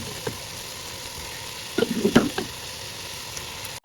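Cooked rice tipped into a pan of vegetables and stirred, starting with a quiet low sizzle and then bursting into several loud crackling, scraping stirs before fading, ending in a sharp clatter.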